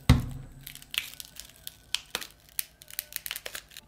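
The cracked glass back panel of a phone is pried off, giving a burst of crackling at the start followed by scattered small sharp cracks and crinkles, close up and without talk.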